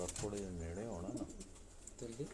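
A pigeon coos in soft, throaty rolling calls at a pigeon-flying contest in Havelian, heard nearby under people talking.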